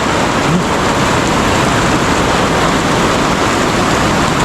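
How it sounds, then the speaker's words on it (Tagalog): Heavy rain pours steadily in a dense, loud roar of water, unbroken throughout with no voices. "ang lakas ng ulan"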